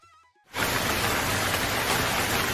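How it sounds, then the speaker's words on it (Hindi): Cartoon rain effect: after a brief quiet musical moment, heavy rain abruptly bursts in and continues as a dense, steady loud hiss of falling water. "लेकिन अचानक बारिश शुरू हो गई।"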